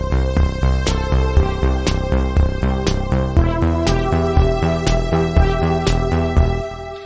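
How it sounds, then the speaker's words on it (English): Brass sounds run through a compressor plugin, playing loud rhythmic stabs at roughly two per second with a pumping, pushed-forward feel and no voices. "The other sounds are brass."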